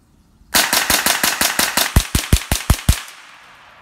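A rapid string of about a dozen loud, close gunshots fired at a coffee maker, evenly spaced and ringing briefly after the last one, no talk.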